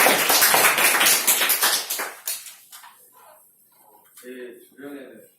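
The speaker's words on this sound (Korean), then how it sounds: "자, 한 번 더 박수!" Classroom of students clapping in applause, a dense burst of many hands that fades out over a couple of seconds, followed by a few faint scattered sounds and a short voice.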